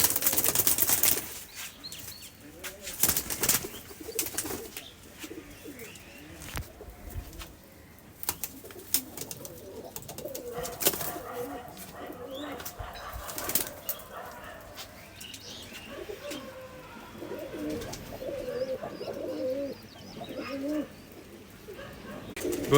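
A pair of imported Punjabi cargo pigeons at a home gives soft, repeated coos mixed with bursts of wing flapping, close and steady throughout, with a faint voice now and then.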